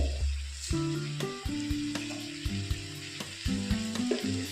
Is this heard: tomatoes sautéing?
yes